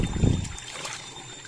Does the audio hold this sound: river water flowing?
yes